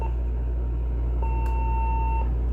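Uniden EXAI7980 900 MHz cordless phone answering machine sounds a single steady electronic beep tone lasting about a second, clear over a low background hum, with no talking.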